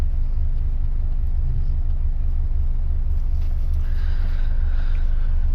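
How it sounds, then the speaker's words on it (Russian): An Audi A6 C7 engine idles after starting, a steady low rumble and hum running evenly throughout, with a faint higher tone appearing near the end. "Сейчас я запустил двигатель"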